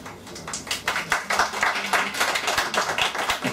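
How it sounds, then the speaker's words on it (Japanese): A small audience at an autumn festival stage concert claps between songs, distinct individual handclaps in an uneven, moderately loud patter close by, fewer hands than a large crowd. "この拍手は"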